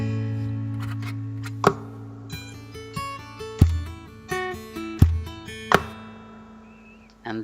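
Two-hand percussive guitar tapping in a kick and snare pattern: bassy thumps alternate with sharp slaps while tapped notes ring between them, close and clear, with no talking.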